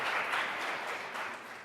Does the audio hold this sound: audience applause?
yes